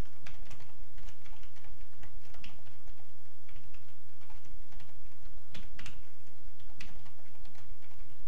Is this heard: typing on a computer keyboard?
yes